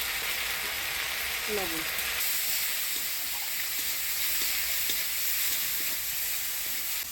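Ground spice paste, chilli, garlic and turmeric fry in a pan with a steady, strong sizzle, and a brief voice speaks over it early on.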